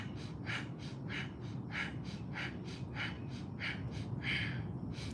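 Bhastrika yoga breathing during a group session: rapid, forceful nasal breaths repeated in a steady rhythm, about eight quick puffs close to the microphone, fairly quiet with no talking.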